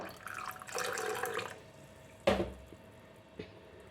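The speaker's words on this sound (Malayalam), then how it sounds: "ഇനി ഒരു അല്പം വെള്ളം കൂടെ നമുക്ക് ഒഴിക്കണം" Water being poured into a rava batter for rava roast, short splashy bursts of pouring followed by a sharp clink and a smaller knock, fairly quiet and close.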